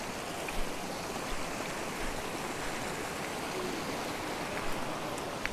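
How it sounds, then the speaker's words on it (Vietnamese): A mountain stream swollen after rain rushes steadily near the border in the highlands, a dense, continuous roar of flowing water with no voices over it. "vừa rồi á, trời mưa nên bây giờ suối rất là to"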